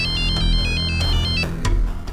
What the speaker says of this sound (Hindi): फिर मैंने सविता को फोन किया।